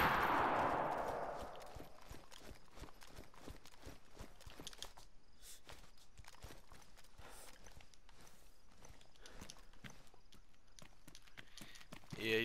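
Gunfire in the video game DayZ: a quiet, dry crackle of sharp shots and footsteps scattered through the clip, opening with a louder noisy burst and no talking heard.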